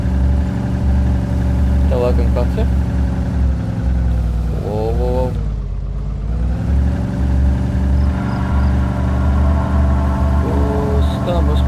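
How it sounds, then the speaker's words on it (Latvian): Car engine idling steadily in Arma 2 DayZ, a loud low rumble running throughout beneath two players talking over voice chat. "Izslēdzam to lielo troksni no mašīnas dzinēju"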